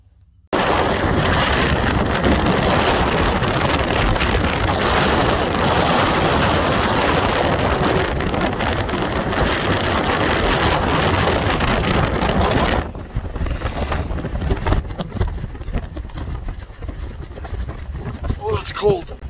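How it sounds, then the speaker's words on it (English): Strong wind roars through a snowy winter storm outdoors, a loud continuous buffeting rush that drops to a lighter gusty hiss near the end, with occasional faint voice. "High winds, snow."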